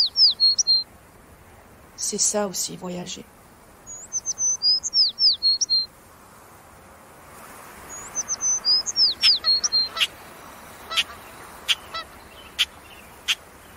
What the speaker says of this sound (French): respirer la nature, écouter les oiseaux.